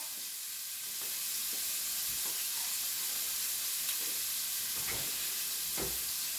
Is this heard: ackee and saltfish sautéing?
yes